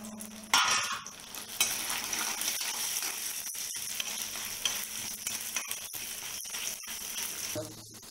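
Pirandai (adamant creeper) sautéed in a pan, with a steady loud sizzle and frying hiss close up, broken by occasional scraping stirs of a utensil against the pan, and no voices.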